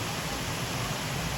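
A waterfall at the Sequiota Park caves in Springfield, Missouri, gives off a steady, unbroken rushing roar that fills the whole moment at an even level, with no voices over it.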